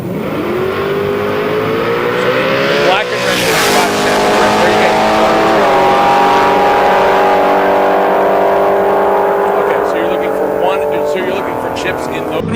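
Cars make a drag racing pass down the strip at Sick Week 2024, a loud, close engine roar rising in pitch through the run, with a sharp burst partway through and a sustained howl afterward.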